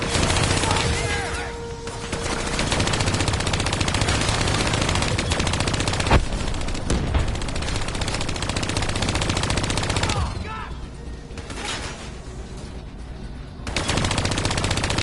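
Turret gunfire in the video game Call of Duty Black Ops 3 is a dense, loud, sustained rattle of automatic fire and impacts that drops briefly near the end before resuming.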